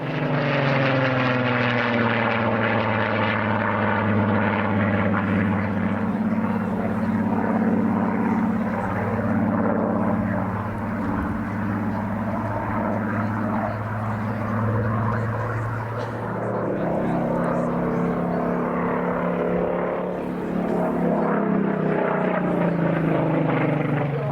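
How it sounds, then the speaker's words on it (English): Supermarine Spitfire PR Mark 19, an unarmed high-altitude reconnaissance aircraft built in Southampton, flies at an air display with a steady, loud propeller-engine drone throughout, shifting pitch slightly as it passes. "Mark 19 aircraft built at Supermarine in Southampton as an unarmed high-altitude reconnaissance aircraft."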